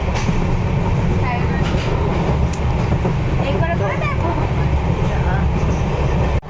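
Train running on the route to Balurghat, a loud steady rumble with rattling wheel noise from inside the carriage, people talking over it.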